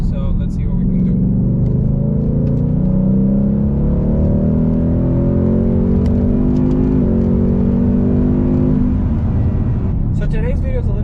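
A 2020 Ford Mustang GT in sport mode pulls hard in fourth gear, its engine droning and climbing steadily in pitch for several seconds from inside the car before easing off.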